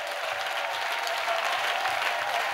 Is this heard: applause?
yes